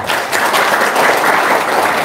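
An audience at an Indonesian business talk gives dense, loud, sustained applause, many hands clapping together without pause.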